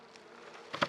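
Honeybees buzz softly around an open hive during an inspection, a low hum that swells into a louder burst near the end as bees pass close.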